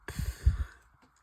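A small, miniature dog snores in a quiet room, one short rough snort-like breath rising and fading within about a second, near and fairly soft.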